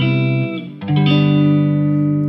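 A clean electric guitar tone rings out as sustained, bright chords, dips briefly, then a new chord swells and holds, loud and close, with nothing else audible.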